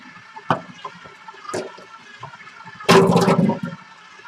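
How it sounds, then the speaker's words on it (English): Water dumped down a kitchen sink, a heavy splashing pour that swells for about a second after a few smaller clatters and drips nearby. "Dump that water."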